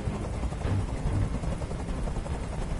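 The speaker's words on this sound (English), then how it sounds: "I can't stand that noise anymore! Tell that helicopter to get out of here!" A helicopter hovers in the Detroit: Become Human video game, its steady rotor drone filling the scene evenly from start to finish, with no voices over it.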